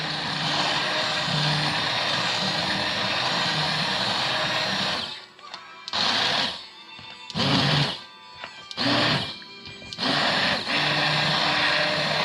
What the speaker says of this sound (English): You can put it in a blender.